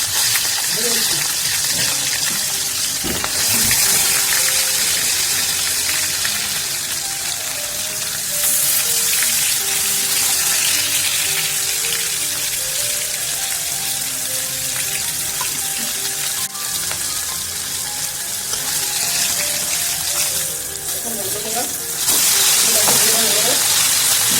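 Pieces of shankar fish sizzle and crackle loudly in hot oil, a constant bubbling hiss that swells as more pieces go in, with a person talking over the frying.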